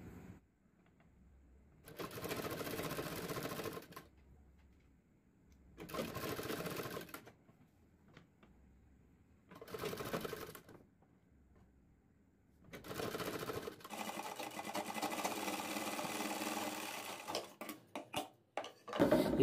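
Sewing machine stitching a strip onto the back neck of a blouse, running in four separate bursts of steady whirring with quiet pauses between, the last run longest and loudest, close up with no talking.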